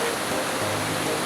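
River water rushes over a small dam in a dense, continuous hiss of flowing water, close and loud, with no voices over it.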